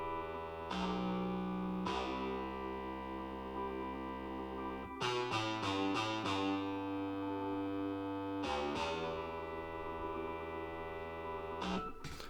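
Buzzy, loud bass in an electronic track built in Ableton, playing sustained distorted notes alongside a rhythmic synth pattern with repeated stabs, fairly quiet overall and without any talking.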